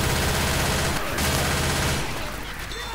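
Rapid machine gun fire in Left 4 Dead 2 rattles loud and continuous for about two seconds, then eases into a quieter spray as the shooting tails off.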